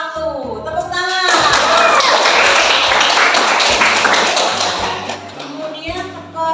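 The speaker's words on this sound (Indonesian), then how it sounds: "Tepuk tangan." An audience applauds the winning group at a school coaching session. The clapping swells after a short spoken lead-in, holds for several seconds, then fades as a voice resumes over it.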